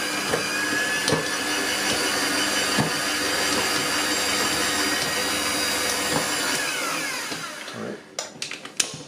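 Electric mixer whirring through banana loaf batter, a steady loud motor drone for about seven seconds that winds down and stops, followed by a few clattering knocks, no talking.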